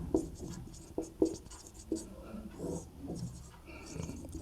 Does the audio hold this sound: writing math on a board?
yes